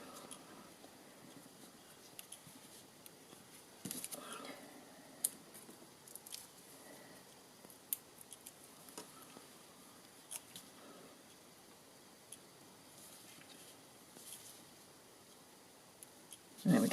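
Card stock being cut for customer thank-you card kits, with faint, sparse snips and small clicks of paper handling over a quiet background.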